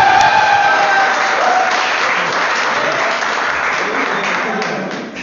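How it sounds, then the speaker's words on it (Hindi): An audience at a Haryanvi poetry recital breaks into loud, sustained clapping that slowly fades, with a voice briefly audible at the start. "तुम ताली बजा दो"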